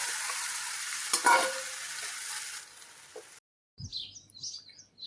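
Mustard seeds sizzle in hot oil for a few seconds, a steady frying hiss, before it cuts out and faint bird chirps follow.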